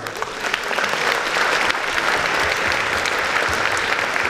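An audience gives a standing ovation to performers of the musical Stations of the Cross, with loud, continuous, even clapping throughout.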